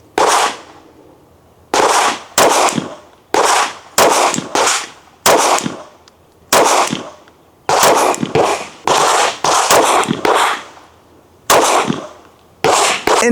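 Shots are fired from a handgun fitted with an Aimwin PN3 red dot sight, about fifteen loud sharp cracks in irregular bursts with short silent gaps, close and with no talking.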